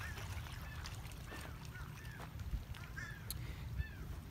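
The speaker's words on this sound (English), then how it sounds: "You can hear the seagulls." Seagulls call at a Florida beach, several faint, distant cries rising over a low wash of wind and water.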